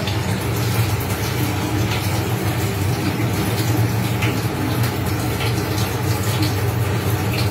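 Raw chicken rinsed under a running tap, a steady close rush of gushing water that holds an even level throughout with no breaks and no talking.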